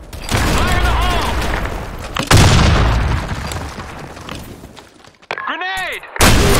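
A grenade blast and gunfire in the shooter Blackshot, with loud booming explosions and a sharp heavy burst near the start, rapid shots around them, a voice shouting late on, then another blast at the end.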